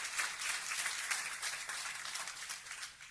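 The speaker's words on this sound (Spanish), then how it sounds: "give a strong applause to the Lord?" Church congregation gives applause during a sermon, a soft wash of clapping heard at a distance, faint and steady for a few seconds.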